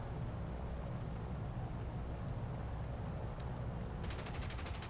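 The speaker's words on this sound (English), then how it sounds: "So I do some firing first of all to just put him off a little bit" Bomber gun turrets fire in War Thunder as a B-29 engages an ME410, a dense continuous rattle over loud engine drone, with a rapid burst of regular shots near the end.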